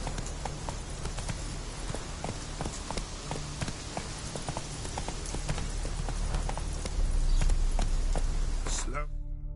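Roach, a horse in the video game The Witcher 3, gallops in steady repeated hoofbeats for nearly the whole stretch, loud and close over a constant low game ambience before fading out at the end.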